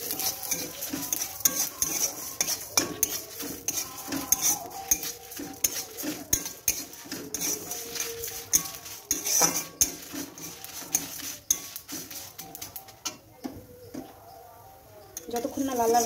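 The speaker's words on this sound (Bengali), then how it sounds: "এইভাবে আমি সবকটাকে একসঙ্গে কড়াতে দিয়ে ভেজে নেব।" Dry chillies, fenugreek, cumin, fennel and mustard seeds roast together in a wok, with a metal spoon clattering and scraping against the pan over a faint sizzle while a person talks.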